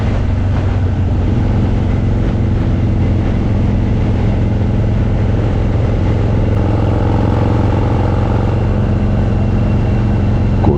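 Harley-Davidson FXD-R custom motorcycle accelerating hard off the line on a Tokyo expressway, a loud, dense engine roar with steady pulsing low rumble and wind throughout, no pauses.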